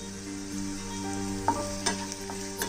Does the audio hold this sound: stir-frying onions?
yes